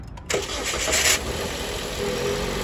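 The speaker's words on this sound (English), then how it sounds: "When you're checking the coolant, unlike the oil, you gotta have the engine running. So let's turn it on." A car engine cranks briefly, catches and settles into a steady idle, close by and with no talk.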